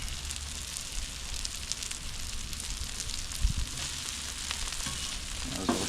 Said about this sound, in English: we're going to go ahead and give our hash browns a flip.